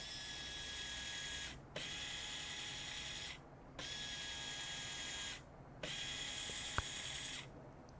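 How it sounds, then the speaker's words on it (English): A remote switch actuator is removed from an electrical panel, giving faint whirring, ratcheting motor bursts in four even runs of about two seconds each, separated by short silent gaps and a sharp click. "I'm going to take the actuator off of the panel now and let everybody just see that."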